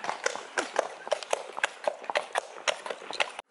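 Horses clip-clop along the Frisian coast, their hooves striking in a quick, uneven rhythm close by, loud and steady, with no talk over them.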